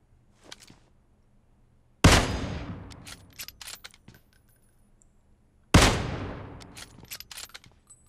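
Gunfire in PUBG Mobile: two sharp, loud shots each ring out with a long decaying tail, separated by a few seconds, with faint scattered clicks and softer pops around them.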